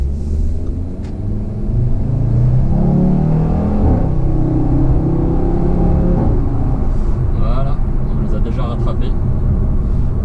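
A warm Audi RS3 sedan accelerates hard from a start, its engine rumbling loudly and rising in pitch through the gears, close and dominant throughout.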